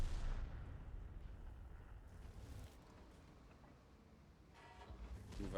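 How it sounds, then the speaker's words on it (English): Heavy boom of a tank cannon in a World of Tanks online battle, the Toro lootbox tank on the field, opening with a loud blast that rumbles and decays, then a second burst of firing near the end. "I'll let the E4 take his shot."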